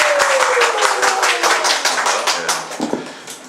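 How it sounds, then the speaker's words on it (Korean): Enthusiastic clapping from a church congregation welcoming guests, quick and close, fading toward the end with a few voices underneath. "박수로 환영하겠습니다"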